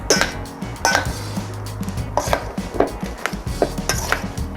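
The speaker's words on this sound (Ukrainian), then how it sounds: "Взбитим яйцем заливаю нарізані баклажани. Ну і гарно все перемішую." Sliced eggplant being mixed with beaten egg in a bowl, close repeated clinks and scrapes of a utensil against the dish in an uneven rhythm, with no talking.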